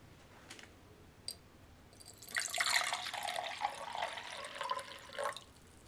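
About 8 ounces of water is poured into the drink bag of a Chinese PLA Type 13 ration, a soft splashing trickle that swells midway and then fades. It follows a few faint clicks and comes through without any talking.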